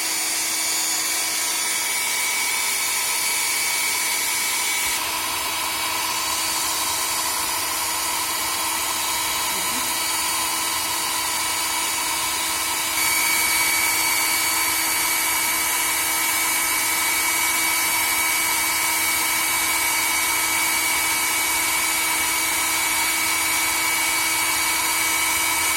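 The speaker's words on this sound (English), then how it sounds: "It is also dried using a dryer." A hair dryer's steady, continuous blowing whir drying a glycine amino acid spot on chromatography paper, holding for the whole stretch, close and even in loudness.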